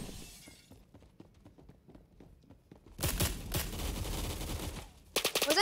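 Gunfire in the Roblox video game starts as a quick rattling series of faint shots, then becomes a loud, dense burst of rapid fire with a final volley of sharp cracks.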